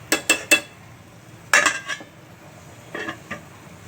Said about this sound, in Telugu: ఇలాగే మూత పెట్టుకుందాం.